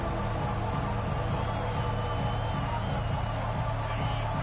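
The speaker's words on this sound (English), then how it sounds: "Man, this crowd really affecting the football game." Home stadium crowd in a Tennessee versus Oklahoma college football video game, a dense continuous roar of cheering and chanting spectators with no breaks, loud and steady throughout.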